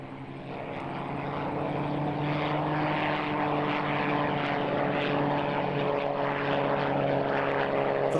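A Messerschmitt 109 propeller fighter drones overhead at an airshow, its piston engine a steady, rich hum that swells gradually and stays strong throughout.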